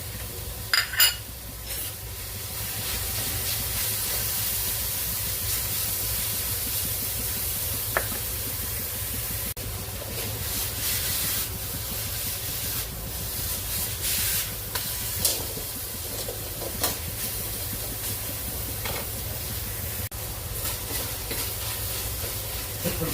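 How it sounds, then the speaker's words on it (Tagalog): Ground pork stir-fried in a pan for a Filipino dish, steady sizzling and hissing with occasional scraping stirs throughout, close and continuous with no talking. "Ilagay na rin natin yung ating giniling ground pork."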